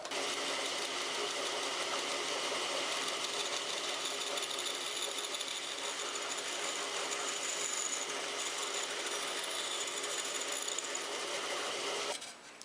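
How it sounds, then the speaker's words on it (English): A bandsaw notches a tongue out of a pine board for a country lamp table, giving a loud, steady, unbroken mechanical whine that runs through nearly the whole cut and ends abruptly. "And now I can notch it out on the bandsaw."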